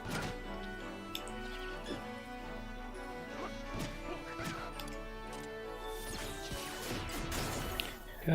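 Smashing impact of an armor shatterer attack in Final Fantasy XI, with a few sharp crashes toward the end over steady game music and effects.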